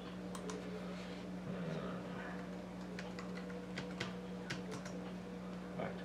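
Quiet tapping of keys on a Nexxtech Bluetooth keyboard, scattered light clicks in short irregular bursts over a steady low hum, indoors.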